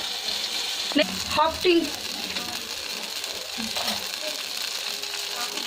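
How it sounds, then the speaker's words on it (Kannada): Onions fry in about half a teaspoon of oil in a pan for a tomato cashew chutney: a faint, steady sizzle with a few soft clinks and scrapes of stirring. "1/2 ಟೀ ಸ್ಪೂನ್ ಅಷ್ಟು ಆಯಿಲ್ ಹಾಕಿ ಮತ್ತೆ ಆನಿಯನ್ಸ್ ಹಾಕಿ ಫ್ರೆಂಡ್ಸ್ ಈ ಥರ ಫ್ರೈ ಮಾಡ್ತಾ ಇರಿ"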